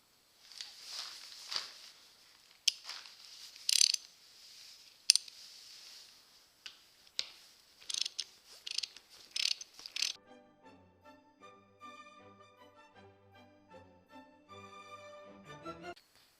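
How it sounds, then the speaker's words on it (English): Hand ratchet tightening bolts on a simple vise stand, a series of quick clicking bursts and metallic taps at close range, ending in a ringing metallic tone. "Now I'm going to come back with my ratchet and"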